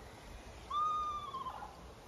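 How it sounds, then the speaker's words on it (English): An Eastern Screech Owl gives a single clear, tremulous call that holds a steady pitch for under a second and then trails off, faint against a quiet background. "So an owl with a unique sound that I'm going to be talking about is the Eastern Screech Owl."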